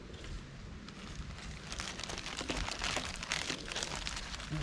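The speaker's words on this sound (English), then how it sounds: "Now for storing them, just pop them into a plastic bag." Salted fishing bait goes into a plastic bag, and the bag gives off close, irregular crinkles and crackles that come in bursts, with no voices.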